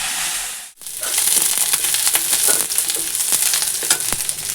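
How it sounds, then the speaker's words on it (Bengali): Spices hitting hot oil to temper dal, a sudden loud, crackling sizzle that bursts in after a brief hush and keeps hissing with small pops, close up. "ডাল ফোড়ন দেবো"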